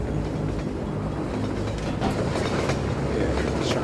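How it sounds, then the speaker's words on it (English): A train rumbles past in Half-Life 2, a steady, loud clatter of wagons and rail noise filling the whole stretch without letting up. "Train coming through?"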